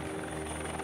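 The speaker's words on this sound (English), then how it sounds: "Personnel are transported by helicopter to the different settlements." A helicopter flies over virgin forest in Papua New Guinea, its steady rotor drone and engine whine filling the moment continuously and loudly.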